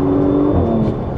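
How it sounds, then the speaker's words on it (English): Porsche Macan GTS twin-turbo V6 hums steadily from inside the cabin in a brief, smooth, moderately loud drone with no talking. "who needs quiet when you've got a twin turbo V6"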